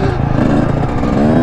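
Dirt bike engine churning steadily on rough, sketchy trails with a passenger riding on the back, loud and close with a constant buzzing drone throughout.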